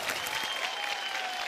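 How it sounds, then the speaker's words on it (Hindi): A small studio audience of about fifteen people breaks into brief, brisk applause on a television comedy show. The steady clapping runs throughout, with a faint tonal hum beneath it. "एक बार जोरदार तालियां हो जाए"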